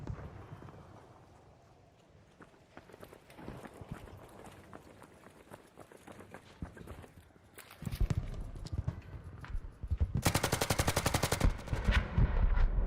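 Video game gunfire aimed at a target: bursts of rapid, loud shots that build into dense automatic fire toward the end, over a steady layer of game background sound.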